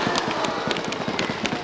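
An explosion in a cartoon story, heard as a close, loud burst of crackling, popping blasts in rapid uneven succession, much like a string of firecrackers.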